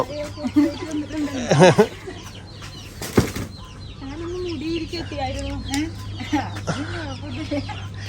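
Chickens cluck and squawk repeatedly nearby, with wings flapping in a brief burst, while people talk in the background.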